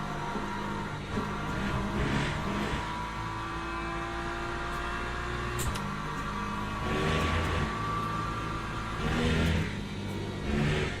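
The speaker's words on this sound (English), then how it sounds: "Here come the hypercars." Hypercars race in the Le Mans Ultimate sim, engines droning and revving steadily with passing surges and whirring gear tones, alone without voices.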